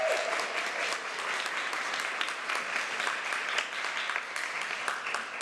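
A church congregation at a Sunday service applauds together, a sustained, even patter of clapping from many hands with scattered sharper claps, heard at moderate distance.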